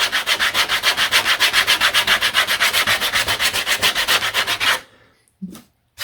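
Steady back-and-forth hand sanding of epoxy-coated dense florist foam, a rhythmic rasping stroke about every quarter second, close and loud for nearly five seconds, then stopping with a couple of faint knocks.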